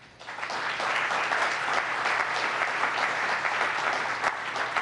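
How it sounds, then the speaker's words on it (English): Sustained audience applause for a panel at a mayor's forum, a steady dense wash of clapping that swells quickly and holds loud throughout with no voices over it. "Big round of applause for our panel."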